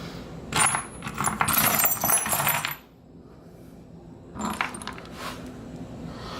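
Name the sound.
rummaging through a bin of metal bolts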